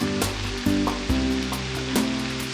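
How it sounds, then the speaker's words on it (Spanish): Tomato and onion go into a pan of frying egg and potatoes, giving a continuous close sizzle broken by several stirring thumps and scrapes. "Entonces agrego el jitomate y la cebolla."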